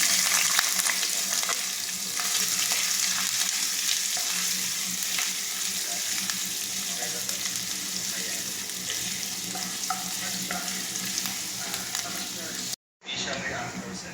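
Ginger sautéing in a pan for Visayan-style egg noodles: a steady, close sizzle with light stirring runs throughout, broken by a short drop-out near the end.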